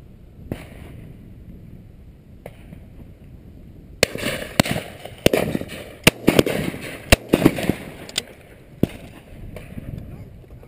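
Shotgun blasts of steel shot cartridges ring out at a driven pheasant, partridge and duck shoot, several sharp reports in quick succession after a quiet start, with voices and outdoor movement around them.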